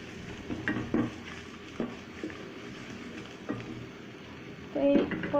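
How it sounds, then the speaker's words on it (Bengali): Turmeric and red chili powder frying in a pan for a chickpea dish, a low sizzle beneath repeated soft scrapes and taps of a spoon against the pan, ending with a louder clatter. "আমি একটু ভেজে নেব।"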